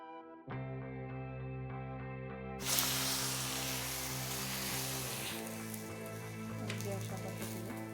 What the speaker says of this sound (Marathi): त्यावर मी अगदी थोडंसं तेल घालून घेते अशा पद्धतीने तेल घालून घेते आणि यावर आता आपण थालीपीठ घालून घेऊया